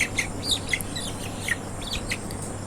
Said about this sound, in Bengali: প্রথম মুরগিটা ধরলাম